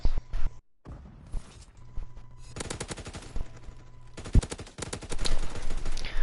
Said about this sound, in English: Let me rewind to the gunshots. That sounds like a pistol round.